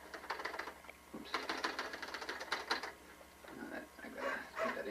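A manual typewriter clacks out rapid bursts of keystrokes with brief pauses between them, close and clear over a low background hum, as someone types up a poem.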